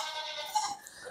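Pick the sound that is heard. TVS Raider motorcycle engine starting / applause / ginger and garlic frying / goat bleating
goat bleating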